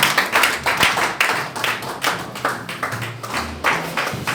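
A church congregation claps together in praise during a service, producing a steady, loud, rhythmic run of hand claps.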